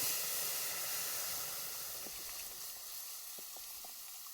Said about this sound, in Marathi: आता ह्यात आहे ना अशी फोडणी द्यायची